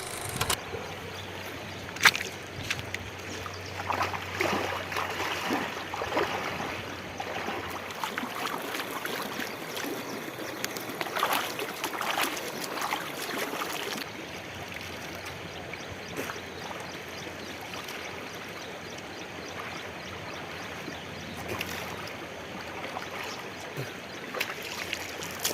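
A clear village stream in Maharashtra, swollen with the first monsoon rainwater, rushes and gurgles with a soft, continuous hiss that stays fairly faint and even throughout.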